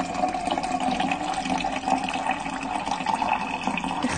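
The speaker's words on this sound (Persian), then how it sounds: "از دیروز همینطوری آب گلالود میاد" Muddy water pours steadily from a tap, a continuous splashing rush with a fairly loud, even level and no speech.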